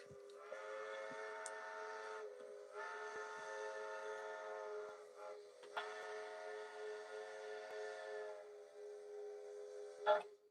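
A steam-style train whistle sounds in long sustained blasts, broken by short pauses, fairly clear and alone with no talking.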